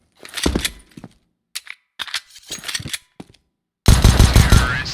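Rapid gunfire crackles in a video game, short bursts of shots between pauses and then a sustained loud volley near the end, with no one talking.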